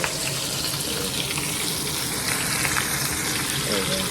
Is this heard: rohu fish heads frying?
yes